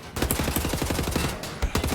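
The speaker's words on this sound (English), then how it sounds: "Why are those shots ricocheting like crazy?" Sustained automatic gunfire with ricocheting shots in Wolfenstein: The New Order, a dense rapid rattle of closely spaced loud shots running continuously with a few sharper pings near the end.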